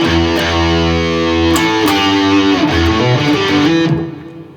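Loud, close distorted electric guitar plays the following phrase of a song's intro, mixing sustained chords with a quicker swung run of notes before fading out, with no one talking.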